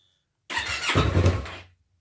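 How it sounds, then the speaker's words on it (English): A 2015 Yamaha MT03 motorcycle engine starts after a moment of silence with a sudden burst, then settles into a loud, close, rough running rumble that fades out after about a second. "Let's just start the engine and you'll see."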